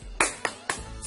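Hands clapping a rhythmic pattern, with four sharp claps over about a second, close and bright, in a classroom clapping chant for children.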